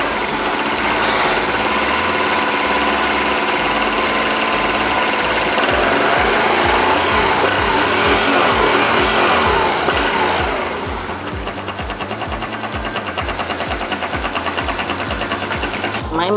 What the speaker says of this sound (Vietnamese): Nó lên ga nè.